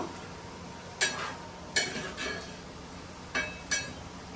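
A utensil stirs gongura leaves and onions frying in a pan, giving a few scattered clinks and scrapes over a steady low sizzle, close and moderately quiet, with no talking.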